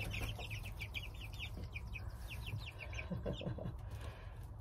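Backyard chickens clucking close by in their coop, a busy run of short overlapping clucks and chirpy calls over a steady low background hum, with no speech.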